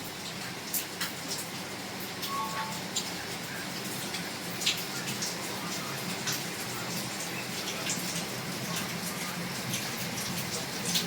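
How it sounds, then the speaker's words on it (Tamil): Steady rain falls at the Valparai hill station as a soft, continuous hiss, with scattered faint drop ticks spread throughout and no voices. "அடுத்த செகண்ட் மழை பெய்யுது பாருங்க."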